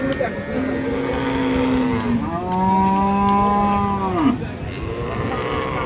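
Friesian cows moo at a crowded cattle market, two long drawn-out lows in succession, loud and fairly close, over steady crowd chatter and background voices.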